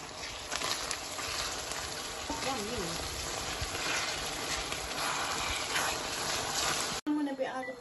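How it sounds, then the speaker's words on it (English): Chopped tomatoes being stirred in a hot pan for lasagna, a steady wet sizzle running throughout with light scraping, broken by a brief knock near the end. "So now I'm going to be stirring it up."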